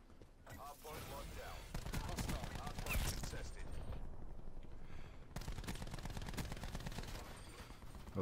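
Rapid gunshots and bursts of fire in a loud shooter video game, continuous through the clip with players talking over the action.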